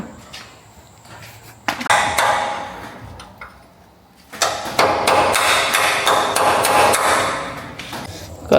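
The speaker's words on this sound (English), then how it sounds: "now we're going to hammer out these axles." Heavy hammer blows driving vehicle axles out of their housing during locker prep, a burst of sharp metallic strikes followed by a long run of rapid, loud, closely spaced clanging impacts.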